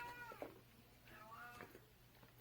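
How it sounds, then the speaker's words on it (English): Alfie the cat gives a few soft, separate meows, each a short rising-and-falling call. The cat sounds fairly close in a quiet room, and there is little else to hear. "Alfie says meow"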